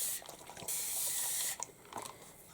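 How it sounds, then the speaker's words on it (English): A handheld spray bottle mists water onto A5 craft card in two quick hissing bursts, the second longer, with faint drips and small handling sounds between them. "So we can just spray this with water again"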